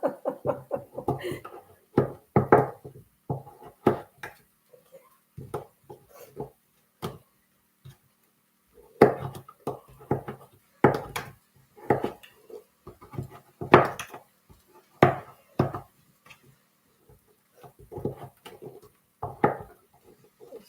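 Butternut squash being chopped on a board, giving irregular knife thuds and clicks in loose bursts, with a voice talking between the cuts.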